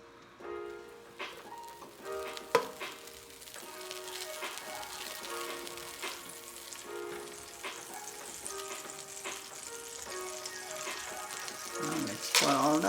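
Butter sizzles and spatters inside a rice cooker, crackling continuously, with a few clunks and scrapes of a utensil, and the sizzle grows louder toward the end.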